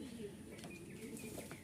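Pigeons at a breeder's loft, including Danish birds, coo in soft repeated bursts alongside faint chirps and occasional wing flaps, close by and steady throughout.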